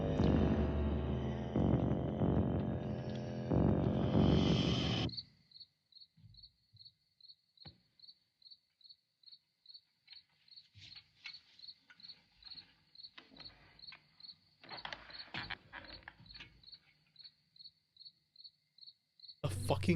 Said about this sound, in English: A fucking cricket sound